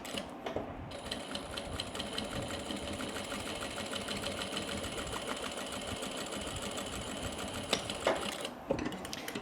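Sewing machine stitching a crossbody bag, a steady close rapid mechanical whir for most of the stretch, then stopping near the end with a few clicks.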